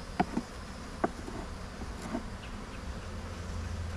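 Steady low buzzing of honeybees around an open beehive fills the background, with a few faint clicks and taps; no voices.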